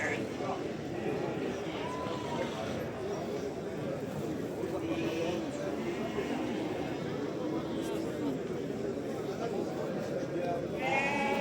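Lambs at a crowded sheep market in Ganja bleat intermittently, soft and mid-distance, beneath a constant hubbub of chattering voices and livestock noise.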